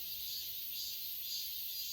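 Cicadas sing in summer near Hwacheon, Gangwon-do, as a steady, faint, high-pitched buzzing drone that pulses gently and runs without a break. No other sound stands out.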